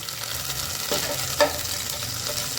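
Peppercorns and cinnamon fry in hot oil, giving a steady close crackling sizzle with a brief scrape of stirring partway through and no voices.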